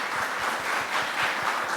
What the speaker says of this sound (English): So can you give a big round of applause for our judges today?